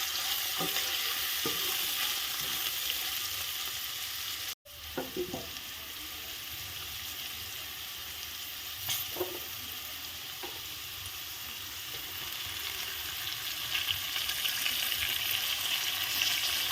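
Dhekia fern greens and chickpeas hiss and sizzle steadily in a hot pan, with scraping stirs and a brief clatter partway through, and no voices.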